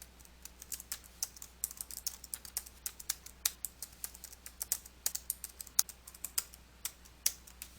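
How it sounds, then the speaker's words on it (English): Steady typing on a computer keyboard while entering record data into form fields, with rapid irregular key clicks close up and no talk. "type the information into the first field. Then press the Tab key on your keyboard to move to the next field."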